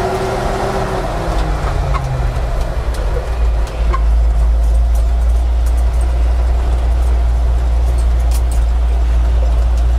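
A Volvo TL 22 military truck engine drones low and steady while driving, with a loud, constant rumble and a brief dip as the gears shift.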